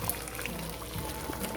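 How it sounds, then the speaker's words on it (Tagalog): Water is poured into a cooking pot on the stove for boiling pasta, a soft, steady liquid gurgle and splash heard close up for a brief moment with no talking. "Lalagyan ko na ng tubig guys."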